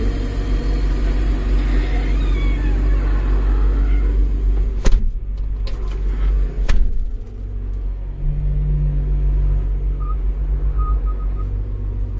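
A backhoe loader's diesel engine runs at a steady, loud rumble while its bucket is raised, with a couple of sharp clanks partway through.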